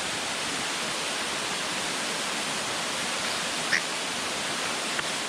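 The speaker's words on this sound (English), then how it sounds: "I have this whole waterfall to myself" Laurel Falls in the Great Smoky Mountains pours in a steady, dense wash of falling water, loud and unbroken throughout with no voices.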